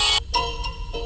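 A phone rings with a loud electronic ringtone in a Pakistani TV drama household scene, playing in repeating bursts separated by short gaps.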